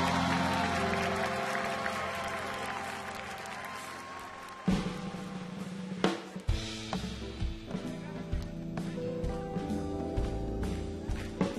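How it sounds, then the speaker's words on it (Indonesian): Audience applause for the performers Paul, Olivia and Yadi at a televised Indonesian dangdut singing show, a steady wash of clapping that runs under the stage music and grows slightly louder and more scattered toward the end. "Beri tepuk tangan dulu dong untuk Paul"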